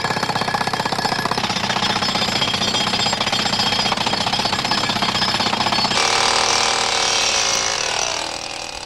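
A jackhammer digs holes at a fossil dig site, a loud, rapid, relentless pounding rattle that runs without pause, shifting pitch partway through before tapering slightly at the end.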